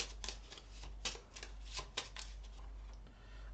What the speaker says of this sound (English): now I have to shuffle this encounter deck back together.